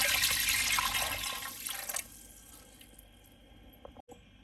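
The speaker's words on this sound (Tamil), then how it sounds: "நம்ம இப்போ கம்புக்கு மாவு ரெடி பண்ணி வச்சுருக்கிறத அப்படியே இந்த மண்பானையில் கலக்கிட்டு ஊற்றிடலாம்" Pearl millet flour batter poured into a clay pot, heard as a close, rushing liquid pour that fades after about two seconds into a quieter trickle, with no talking.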